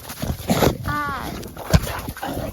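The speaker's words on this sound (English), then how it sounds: "I'll be right back with some more dogs out here playing in the snow" American bully dogs play in the snow during a snowstorm, giving short barks, yips and whimpers mixed with scuffling, while a person talks over them.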